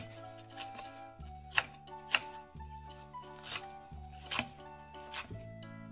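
A knife chops green onions (scallions) for kimchi on a board in quick, light taps, several rapid strikes in short runs over steady background music.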